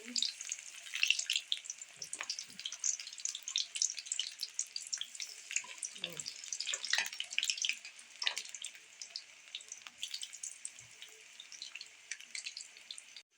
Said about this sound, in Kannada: ಮೀಡಿಯಮ್ ಫ್ಲೇಮಲ್ಲಿ ಇಟ್ಕೊಂಡು ಒಂದು ಐದು ನಿಮಿಷದವರೆಗೆ ಈ ಥರ ಕರ್ಕೊಳ್ಳಿ